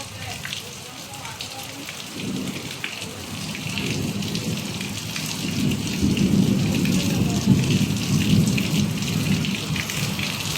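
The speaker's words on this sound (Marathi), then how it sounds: "आता आपण आलो पावसात तर बघू शकतो आपण घरात होतो आणि कसं वाटतंय खूप भारी वाटतं एकदम पावसात" Heavy monsoon rain pours steadily in the Konkan countryside while thunder rumbles low and continuous, the downpour growing louder toward the end, with faint voices in the background.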